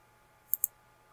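A computer mouse button gives a quick double click, two sharp close taps a fraction of a second apart against near silence.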